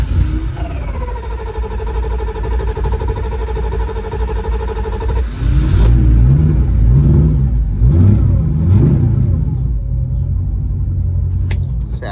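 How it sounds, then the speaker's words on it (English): Carbureted drag car engine fired up, a deep rumbling idle with a whining tone at first, then several sharp revs rising and falling in quick bursts over the heavy idle. "So let's get this thing fired up and check for fuel leaks."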